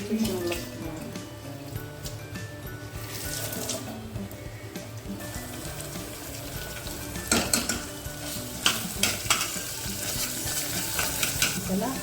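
Masala roasting in a pan with a steady low sizzle and repeated stirring scrapes that grow louder toward the end, with someone talking softly underneath.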